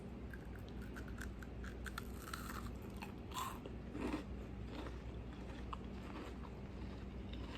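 Repeated crisp crunching bites and chewing of a brown sugar cookie, close to the ear, a steady series of crackly crunches with no talking.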